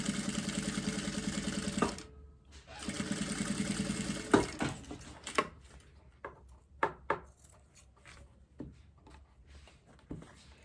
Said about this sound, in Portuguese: agora eu vou passar a costura bem devagarzinho,